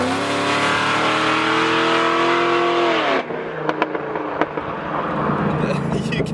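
Tuned supercharged Cadillac CTS-V making about 800 hp, engine held at a loud sustained high rev with rich harmonic whine, then dropping off abruptly into crackles and pops as someone talks nearby.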